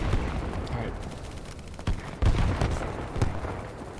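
Rapid automatic rifle fire in the video game BattleBit Remastered, a loud, dense stream of shots with a few sharper bursts standing out over the clatter.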